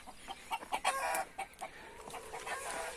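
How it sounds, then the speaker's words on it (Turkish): Chickens and chicks on a Turkish backyard poultry run cluck and chirp in short bursts, with a brief rooster crow mixed in, close and fairly clear over a quiet outdoor background. "Bu civcivlerimiz de buraya gelmiş."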